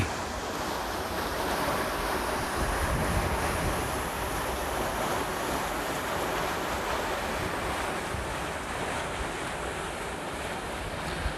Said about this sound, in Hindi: ये भी इन्होंने एक चैनल बनाया हुआ है, ये देखें, इधर से भी पानी जाता है